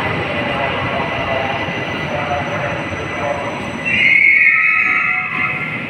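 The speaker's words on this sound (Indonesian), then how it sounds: "Oke, ini kereta yang nggak tahu dari stasiun mana." An LRT Jabodebek light-rail train at a station gives a steady, close rumble that swells near the end, where a bright, high brake squeal cuts in briefly before fading.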